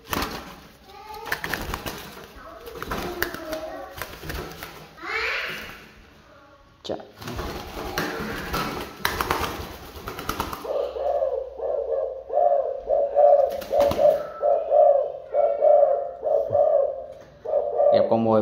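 A caged spotted dove decoy bird gives a repeated, rhythmic coo, loud and close, that starts after a stretch of talking and handling noise.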